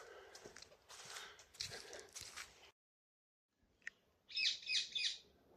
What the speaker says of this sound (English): Yeah, green ringneck parakeet.